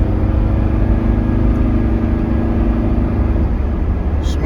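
Diesel car engine pulling hard toward its top end on a highway, heard from inside the quiet cabin as a steady, loud low drone that holds constant and alone throughout.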